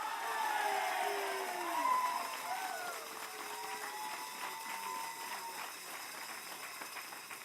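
At the 2012 RIT Polisenni Center groundbreaking ceremony, the audience applauds Rocky. Moderate clapping and crowd noise mix with whooping and voices, then thin out gradually.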